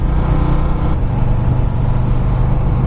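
Harley-Davidson Fat Boy S motorcycle riding at slow speed on a road, its fairly quiet exhaust a steady low rumble beneath constant wind noise, with no clear revving.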